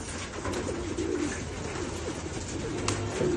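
White racing pigeons in a loft coo softly and repeatedly over a steady, noisy background.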